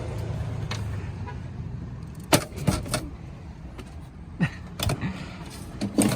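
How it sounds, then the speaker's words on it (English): Unlocking a Honda S2000 roadster, with a few sharp clicks and jangling key sounds bunched together near the middle and end, close by against a quiet background. "Oh, I need to unlock the car first."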